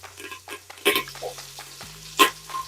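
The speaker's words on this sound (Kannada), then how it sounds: "ಈರುಳ್ಳಿ, ಬೆಳ್ಳುಳ್ಳಿ ಎಲ್ಲ ಹಾಕಿ ವಾಸನೆ ಹೋಗೋದು ಸ್ವಲ್ಪ ಈ ರೀತಿ ಫ್ರೈ ಮಾಡ್ಕೋಬೇಕಾಗುತ್ತೆ" Onion, crushed garlic and curry leaves fry in a pan for a fish sambar, giving a soft steady sizzle with a couple of sharp stirring scrapes and clatters.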